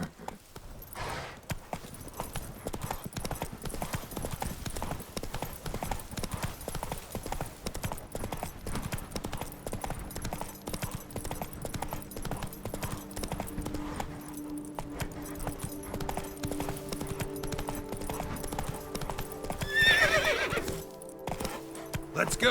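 A horse in The Witcher galloping under a constant wash of game sound, its quick hoofbeats running steadily before a short whinny rises near the end.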